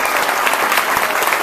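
Loud, close applause from an event audience in Elgin for a doctor and his wife Marta, a thick, even roar of many clapping hands filling the short stretch with no voices.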